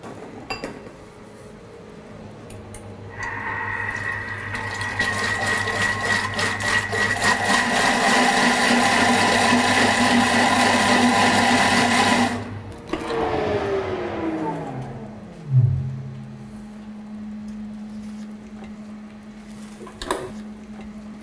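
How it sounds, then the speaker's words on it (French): A blender purées well-browned Anjou pink onions with eggs, its motor whirring loud and steady for about ten seconds before winding down with a falling pitch, followed by a couple of soft clunks. "nous allons mixer nos oignons roussis bien cuits pour en obtenir une purée"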